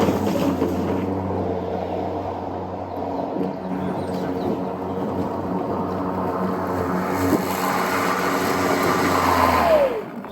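A folding lawnmower set to its lowest cutting height mows grass in spring, its engine a steady, close, droning hum that holds for about ten seconds with no talk.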